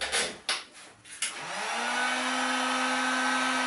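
Heat blower warming glue on a broken carbon fishing rod tip: a few short bursts of air at first, then a steady loud whooshing roar with a rising whine that holds to the end, alone and near.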